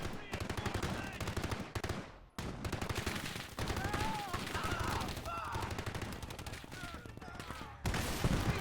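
Sustained M240 machine gun fire in the WWII strategy game Gates of Hell, loud rapid bursts with dense gunfire and explosions throughout, one brief gap, and speech faintly in the mix.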